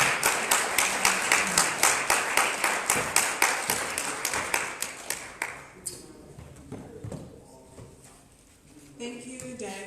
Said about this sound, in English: A big round of applause to Patsimo.